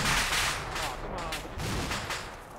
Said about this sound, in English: the bullets are from the burning tank